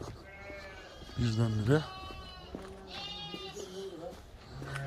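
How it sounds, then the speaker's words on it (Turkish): Several lambs bleat in overlapping, wavering cries, one loud and close, with someone speaking briefly between the calls. "Kuzuların hepsi meylemeye başladı."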